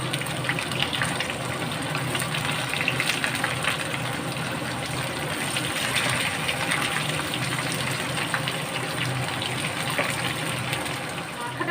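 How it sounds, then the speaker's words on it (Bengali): Katla fish head frying with onion and bay leaves in a pan, giving a steady, dense sizzle that runs loud and unbroken throughout. "একসাথে ভালো করে ভাজবো।"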